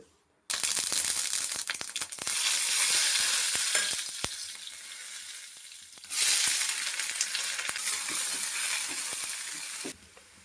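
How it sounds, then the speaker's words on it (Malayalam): Ghee and coconut oil heating in a pot for rava upma, giving a loud steady broadband sizzle with a few sharp ticks, dropping briefly near the middle before surging back, then cutting off at the end. "അതിൽ ഞാൻ നെയ്യും വെളിച്ചെണ്ണയാണ് ഒഴിച്ചേക്കണത്"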